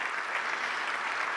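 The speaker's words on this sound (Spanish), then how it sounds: "Un fuerte aplauso para ella." A crowd at a public talk in Spain gives sustained, even applause, a steady wash of many hands clapping at moderate volume with no pauses.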